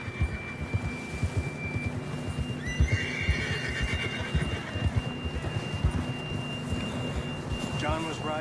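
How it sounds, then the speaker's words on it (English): A horse in Red Dead Redemption 2 whinnies loudly amid rhythmic hoofbeats on the ground, with rain and rumbling in the background and people shouting over it. "John was riding that horse when we left Blackwater."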